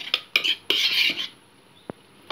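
A spoon scraping and clinking against a bowl while mixing a thick dessert mixture, several quick close stirring scrapes followed by quieter moments and a single sharp tap.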